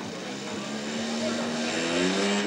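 A giant radio-controlled model airplane flying overhead at a model show, its propeller engine droning steadily and growing slightly louder, while people talk over it.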